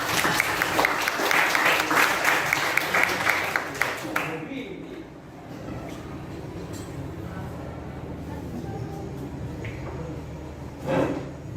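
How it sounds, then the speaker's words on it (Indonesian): A classroom audience claps for a student after a practice teaching simulation, a burst of applause lasting about four seconds that then gives way to quieter room noise. "Tepuk tangan untuk Sania."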